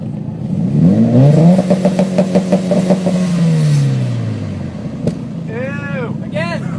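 Mitsubishi Evo X with a Tomei exhaust, AMS downpipe and test pipe revs up loud and close, the engine note rising and falling with pulsing harmonics, then a sharp pop and excited voices.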